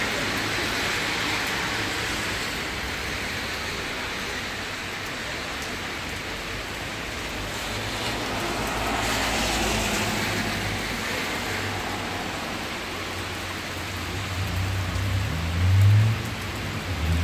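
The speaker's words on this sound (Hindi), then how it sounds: "कितनी तेज़ बारिश हो रही है, यहाँ पे" Heavy rain pours steadily, a dense continuous hiss with a low rumble underneath and a brief louder swell near the end; no voices.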